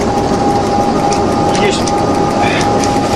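A train runs steadily along a railway line between Sydney and Bathurst in Australia, a continuous loud rumble with a sustained tone over it, while people talk quietly throughout.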